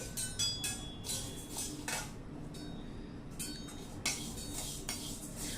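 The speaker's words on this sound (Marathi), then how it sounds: "आता पहिल्यांदा आपण तीळ भाजून घेऊया।" Sesame seeds roast in a metal pan at home, with soft clinks and scrapes of a spoon against the pan repeating through the clip over a faint dry rustle, close and quiet without any speech.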